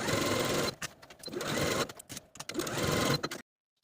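A sewing machine runs through side seams of a simple top with a 5/8 inch allowance, clattering in rapid bursts with short stops and backstitch pauses, close, then cutting to silence.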